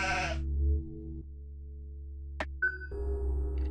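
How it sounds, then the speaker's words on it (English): Goat bleats in the horror video game What Lies In The Fog: a harsh, shaky bleat at the start over a low steady ambient drone, followed by faint game tones and a short click. "Where's our goat in the coffin?"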